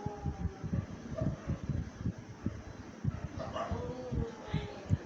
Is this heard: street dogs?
yes